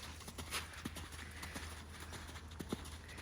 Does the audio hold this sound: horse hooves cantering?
yes